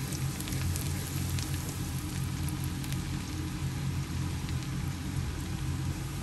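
Garlic sizzles steadily in hot oil in a pan for pancit bihon with canton, a dense continuous crackle with no voices.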